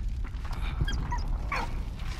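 A frightened dog in Valiant Hearts whimpers and gives short yips in a quick high-pitched sequence, close, over a low rumbling game background.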